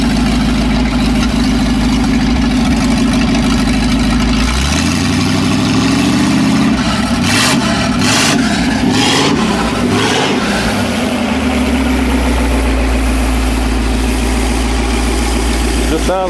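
An old boat engine runs on its first start after rebuild, chugging at a loud steady idle with a brief uneven stumble in the middle, people talking faintly over it.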